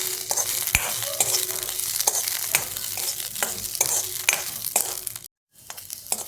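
Field beans (pavta) dry-roasting with a little oil in an iron wok, a steady sizzle broken by regular scraping stirs roughly every half second, close and alone, with a brief silent gap near the end.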